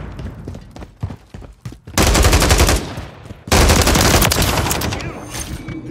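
Automatic gunfire in Call of Duty Modern Warfare during a Domination match: a few scattered shots, then two loud sustained bursts of rapid machine-gun fire, close and dominant.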